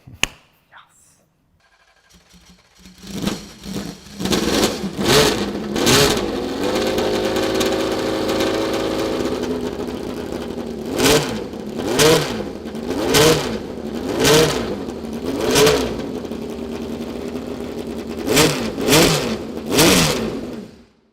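The Tyrrell P34 six-wheeled Formula One car's engine catches after a brief pause, settles into a loud, steady idle, then gives a series of sharp, repeated revs up close, with a short lull between bursts.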